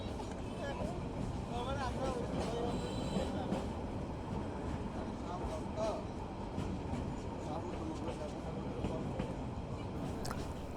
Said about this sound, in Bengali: আমরা চলে এসেছি আমাদের next rail station Ramu rail station এখানে আমাদের ট্রেনের যাত্রা বিরতি দু মিনিট